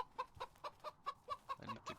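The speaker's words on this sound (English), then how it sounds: "Hello chicken." Chickens clucking close by in a steady rhythmic series of short, sharp clucks, about nine evenly spaced calls, quiet and alone with no talk.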